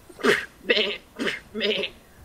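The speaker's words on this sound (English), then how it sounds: "Get this goat out of here." A goat bleats four times in quick succession, close and fairly loud, each cry short and wavering with brief pauses between.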